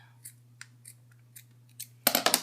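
Scissors cut material on pointe shoes: several faint, spaced snips and rustles, then a louder burst of rapid closely spaced cuts at the end.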